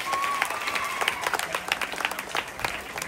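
Applause from an audience at a retirement farewell function, a soft, steady patter of many hands clapping at a modest distance, with a faint tone early on and no speech over it.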